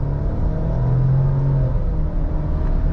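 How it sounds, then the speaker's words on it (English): A 2022 Ford Explorer with a 4-cylinder engine accelerating on a road, heard from inside as a steady loud droning rumble with a rising hum, no talking. "We'll try out some of the acceleration here."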